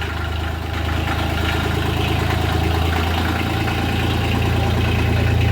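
A Sonalika DI 22 mini tractor engine idles close and loud, a steady low diesel rumble with an even mechanical chatter that holds without a break throughout.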